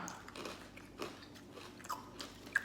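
Faint, close crunching bites and chewing of crispy fried rice, a few sharp crunches spaced irregularly over a quiet background.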